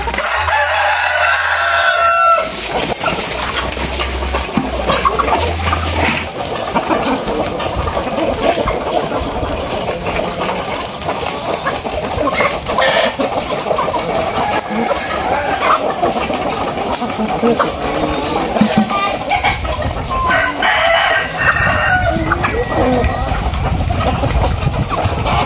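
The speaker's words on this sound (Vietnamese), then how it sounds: "mình cho gà ăn, gà nhảy trên cây nó ngủ" Chickens cluck and a rooster crows at an evening feeding on a winter farm, as the birds hop up into trees to roost; the flock chatter runs loud and steady throughout, with a human voice briefly mixed in.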